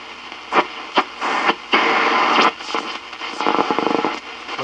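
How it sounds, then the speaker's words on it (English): An Echophone EC-1 tube radio tuned across shortwave band 2 gives out hissing static and bursts of buzzy digital noise. The loud crackling blasts come and go in uneven pulses, with no voices over them. "Bunch of computer-generated noise there."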